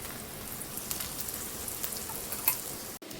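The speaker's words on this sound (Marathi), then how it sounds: "आता आपण हे प्लॅस्टिक वरचं थालीपीठ काढून पॅन मध्ये टाकून देऊया. थोडं तेल सोडून घेऊया." Poha thalipeeth flatbread frying in a little oil in a pan, giving a faint, steady crackling sizzle with no voices before it cuts off abruptly near the end.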